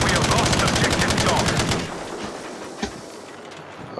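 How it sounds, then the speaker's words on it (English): Machine gun bullets fire in the Battlefield V video game, a rapid, loud stream of cracking shots that runs for about two seconds and then drops into a duller rumble with one sharp crack. "All the cracking of these fucking machine gun bullets."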